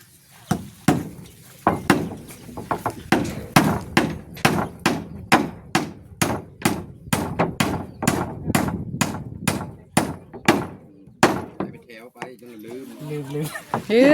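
Nails being hammered into wood: a long run of about twenty sharp, evenly spaced strikes, loud and close, with a brief pause and a few final blows before a voice speaks at the end.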